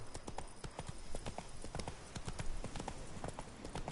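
Rapid clip-clop of horse hooves in The Witcher 3 video game, a steady galloping rhythm of sharp knocks continuing throughout, with faint voices in the background.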